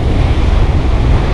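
Steady wind roars across a beach at low tide, with surf washing continuously underneath; loud, broadband and unbroken, with strong low rumble and no voices.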